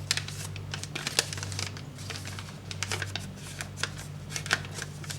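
Sheet of origami paper being folded into an angelfish, a close run of crisp crinkles, taps and creasing rustles with a faint low hum underneath, quiet and with no talk.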